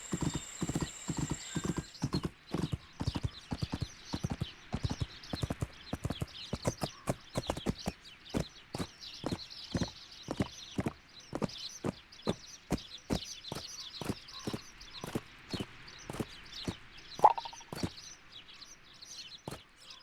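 Rapid clip-clop of horse hooves trotting steadily throughout, with a brief neigh and some clucking chickens, in the video game My Little Riding Champion; close and clear, no talk.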